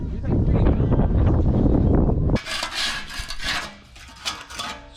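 Scraping and cleaning a dirty rear tank, skid plate and strap system: a dense, low rasping rub for a couple of seconds, then a brighter, hissing scrape with uneven strokes, close to the microphone.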